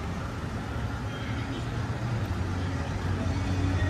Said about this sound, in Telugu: ఫుల్ రాత్రి కూడా ఈ సౌండ్లు వినిపిస్తాయి మనకు బస్సులకి.